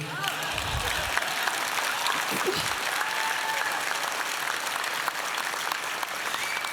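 Steady applause from an audience at a 2022 State of the City event, a dense sustained clapping that fills the whole stretch without pause, with a brief low voice at the start.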